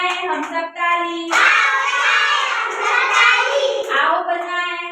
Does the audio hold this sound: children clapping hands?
yes